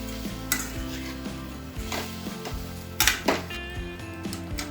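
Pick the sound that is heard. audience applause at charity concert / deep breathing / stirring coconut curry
stirring coconut curry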